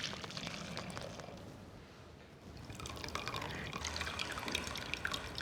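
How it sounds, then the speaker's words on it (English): Hot almond water gelatin mixture is poured from the pan into a bowl to strain out almonds, a steady close trickling and splashing of liquid that thins and then picks up again, with no talking. "pour it into our bowl to strain out the almonds"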